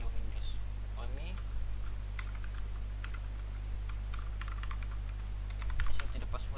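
Someone types a password on a computer keyboard, producing a steady run of close key taps over a constant low electrical hum.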